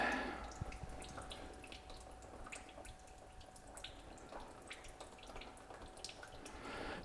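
Diesel fuel leaks and drains from the removed fuel filter on a 2020 Chevrolet Silverado 1500 Duramax diesel, a scatter of small, faint drips and trickles heard close up in a quiet space.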